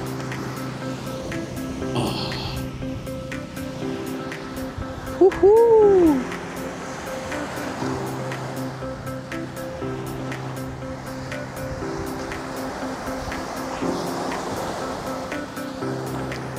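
Strong ocean waves at a surfing beach in Elyu roar steadily and broadly, with a brief whooping shout and some talk partway through.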